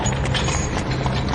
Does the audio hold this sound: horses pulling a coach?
yes